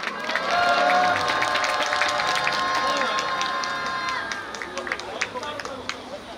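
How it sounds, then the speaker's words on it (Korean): Crowd at a Korean political rally applauding and cheering as speakers are welcomed to the stage, with broad clapping, shouts and voices sustained throughout, strongest early and easing slightly toward the end. "두 분을 힘찬 박수로 모시겠습니다."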